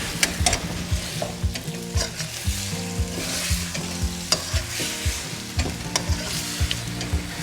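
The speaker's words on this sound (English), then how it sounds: "Now straight in with the ribs. Toss everything together." Peking-style pork ribs sizzle and fry in a pan while being tossed and stirred, with steady crackling and repeated scraping strokes over background music.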